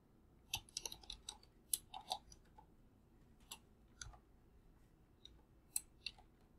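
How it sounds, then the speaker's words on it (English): Quiet, close typing on a computer keyboard, irregular clusters of soft key clicks with short pauses between them and no talking. "Let me just type it a little bit here"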